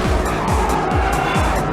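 A race car in the Midnight Club 2 video game drives the LA circuit with squealing tires and a loud engine that revs and shifts in repeated quick downward sweeps, close and continuous.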